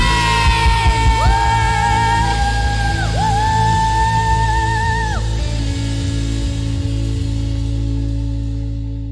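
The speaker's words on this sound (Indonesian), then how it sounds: "Joy Kids dengan sangat amat keras teriakan" Loud shouting with voices rising and sliding in pitch, like a group of children at an online church service yelling together, then held, sustained tones over a steady background hum that trails off.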